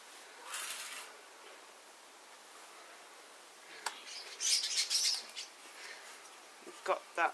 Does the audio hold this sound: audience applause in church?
no